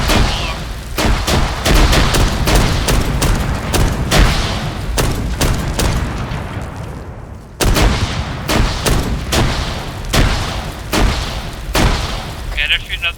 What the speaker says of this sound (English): they're shooting up the vehicle